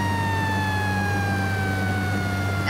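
A police siren chases the player in a Roblox driving game, a loud steady electronic wail with a slowly falling pitch, continuous throughout and heard alone without talk.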